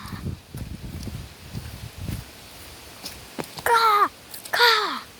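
Crow caws in a Trevor Henderson creatures video game, two loud harsh calls near the end, following a run of soft shuffling footstep-like thuds.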